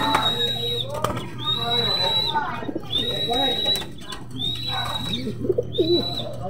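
Racing pigeon Ato arriving home at a loft, with repeated bird calls and cooing recurring every second or so amid background bustle and excited voices talking nearby.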